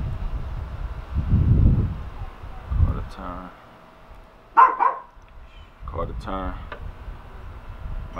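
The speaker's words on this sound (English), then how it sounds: "My dog's getting excited over there. My little killers, my little noise makers." Small pet dogs bark in short, sharp bursts from across the room, a couple of quick clusters rising over someone talking during a gun optic install.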